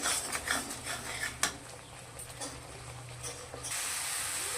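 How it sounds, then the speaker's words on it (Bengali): Masala for a katla fish kalia fries in a pan and is stirred, a close hissing sizzle broken by metal utensil clinks and scrapes against the pan, with a steadier hiss near the end. "মশলাটাকে ভালো করে কষাতে হবে।"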